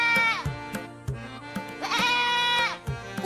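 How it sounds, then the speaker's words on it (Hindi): A hungry goat in a Hindi cartoon story bleats loudly in several long, wavering cries, close and insistent, with short clattering knocks between the calls. "एक बार सवेरे बकरी भूख के मारे जोर से रोने लगती है"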